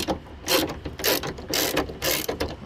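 A ratchet loosens Torx T30 screws on the rear door of a 2002-06 Nissan Altima, clicking loudly and close in four quick bursts of rapid pawl clatter.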